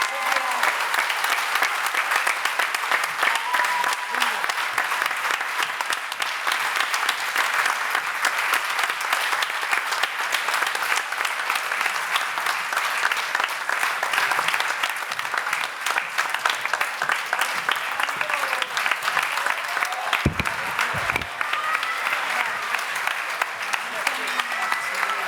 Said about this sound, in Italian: L'applauso è tutto per loro